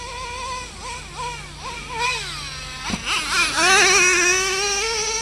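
Traxxas Revo nitro RC truck engine fitted with its stock exhaust pipe, revving up and down in a series of rising and falling whines before climbing to a louder, sustained high-pitched scream near the end.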